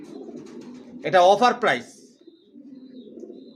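Young racer pigeons cooing in a low, steady murmur, briefly covered by a short spoken phrase before the soft cooing carries on.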